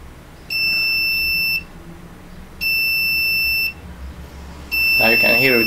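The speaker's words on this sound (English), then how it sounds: "this little noise that comes from a PC buzzer can be heard all over our house" Three long electronic beeps from a PC buzzer used as a washing machine monitor alarm, each about a second, evenly spaced and shrill, with a voice starting up over the last one.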